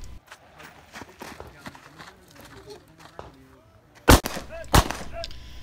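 Two sharp, loud gunshots ring out near the end of a 2-Gun Action Challenge match stage, preceded by quieter shuffling, footsteps and handling noise.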